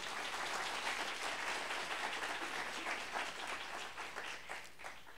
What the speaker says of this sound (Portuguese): Uma salva de palmas para a mãe, por favor.